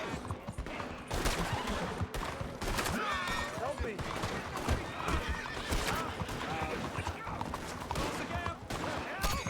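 A horse neighs and whinnies repeatedly amid galloping hooves and a rapid burst of gunfire in Red Dead Redemption II, loud and busy with overlapping commotion throughout.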